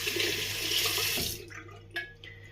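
A water tap runs in a steady hiss as fingers are rinsed under it, then shuts off, followed by a few faint drips and small splashes.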